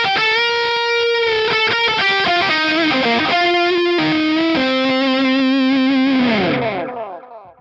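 Electric guitar played through a delay effect on a Mooer Minimax M1 modeller, with the delay placed before the amp: sustained distorted notes and chords ring out with echoing repeats, loud and close, before fading out at the end.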